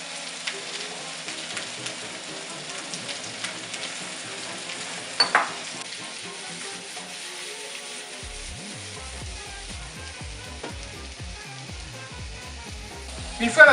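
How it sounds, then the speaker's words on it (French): Apple quarters frying in a little butter in a pan, a soft steady sizzle throughout with a brief clatter near the middle and low bubbling toward the end. "nous allons faire revenir nos quartiles de pommes dans une poêle avec un petit peu de beurre"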